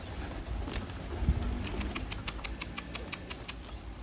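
A pigeon comes flying in over a rooftop loft, its wings giving a series of quick, rhythmic flapping bursts close by against a light outdoor background.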